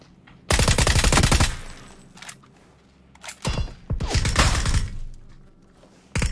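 Gunfire in a multiplayer shooter video game: two loud, rapid automatic bursts of crackling shots, the first about a second long and the second longer with short stuttering volleys, separated by a quieter pause with scattered single reports.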